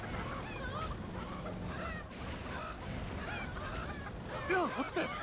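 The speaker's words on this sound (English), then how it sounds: "Hold on, do I have anything for these stupid ass chickens?" Cartoonish chickens cluck and squawk in the Family Guy: Back to the Multiverse video game, rising into louder squawks near the end over a game background.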